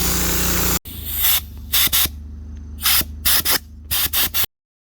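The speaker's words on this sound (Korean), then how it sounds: "친환경 세정제를 고압으로 골고루 빈틈없이 쫙 싸 넣는 중입니다" A steady high-pressure hiss of eco-friendly cleaning agent being sprayed into a Hyundai Grandeur HG's air-conditioning evaporator cuts off, then comes back as a series of short, sharp spray bursts in uneven rhythm before stopping.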